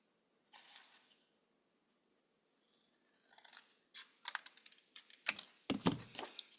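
Scissors snip through a paper cup along a drawn line, a run of crisp crackling cuts that start sparse and grow louder and denser toward the end, close up.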